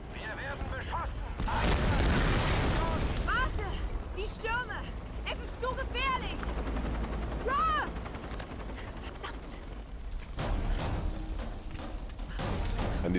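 Heavy gunfire pounds a bridge in the video game Tomb Raider (2013), a dense, rumbling barrage of booms and shots that runs throughout, with game voices and effects layered on top.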